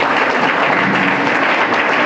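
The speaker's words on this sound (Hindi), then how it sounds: "हाँ, इनके लिए ताली बजाएंगे जोरदार।" An audience breaks into loud, vigorous applause, a thick continuous clatter of many hands sustained at even strength without any talking.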